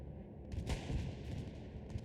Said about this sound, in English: Bombing run sounds like a bombing run.